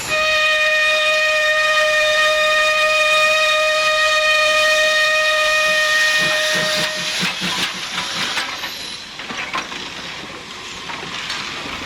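A steam train's whistle sounds loud and sustained for several seconds, then cuts off into a strong, rushing hiss of released steam that continues to the end.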